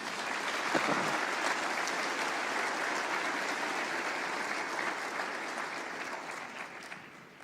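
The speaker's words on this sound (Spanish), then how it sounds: "Denle un aplauso a Jesús" A church congregation applauds for Jesus after a preacher's call: dense, steady clapping at full strength from the start, holding evenly for about seven seconds before thinning slightly at the end.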